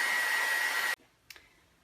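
A hair dryer blows steadily to dry paint on a handmade mixed media card, running loud and close for about a second before cutting off, followed by a faint click.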